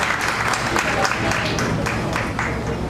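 A crowd at an Ambedkar Jayanti gathering in Madipur, Delhi, claps loudly and densely in a close, continuous burst to welcome a guest, with a voice faintly mixed in underneath.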